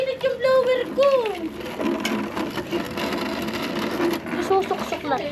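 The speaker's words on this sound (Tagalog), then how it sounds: "Mag-iinit yung blower ko." An electric blower fans a charcoal fire with a steady whirring motor drone that runs the whole time, under people talking close by.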